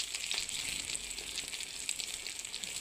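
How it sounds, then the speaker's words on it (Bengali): An egg fries in a pan, giving a faint, steady high sizzle with small crackles throughout and no talk. "ওকে একটা ডিম ভাজি করে দিচ্ছি"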